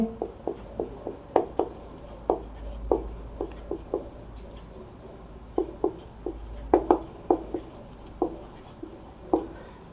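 Pen strokes scratching and tapping on paper as class 12 maths notes are written out, close and distinct, in irregular clusters of short strokes with brief pauses, no speech.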